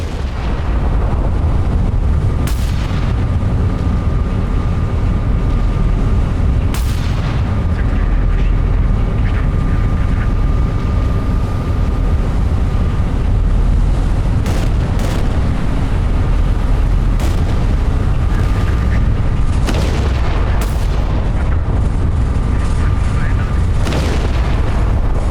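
Naval gunfire in the warship strategy game Battleship Command: repeated booming shots and distant explosions over a constant rumbling engine and sea drone, with a voice talking in places.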